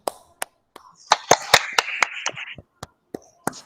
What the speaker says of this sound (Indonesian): Kita beri aplaus untuk Putri